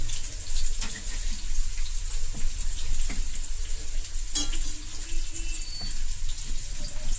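Onions fry in a pan with a constant close sizzle, broken by a few soft clicks and stirring knocks and no voices.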